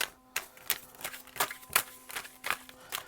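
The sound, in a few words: shuffling a deck of cards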